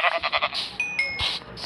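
A sheep in the Minecraft video game bleating several times in short, quick, repeated calls, followed by brief game clicks and tones, clear and close with no talking.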